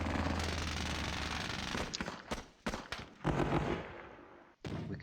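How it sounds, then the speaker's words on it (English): Gunfire crackles through a Squad Battles Eagles Strike battle in dense overlapping bursts like machine-gun fire, with sharp separate cracks and a few brief gaps as the firing thins out. No one speaks. "Okay, we're taking fire."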